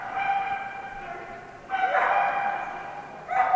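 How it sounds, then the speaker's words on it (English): Dogs bark at agility tryouts, a few sharp barks standing out over a busy outdoor crowd hum, with one burst near the middle and another at the end, moderately loud. "A lot of barking going on."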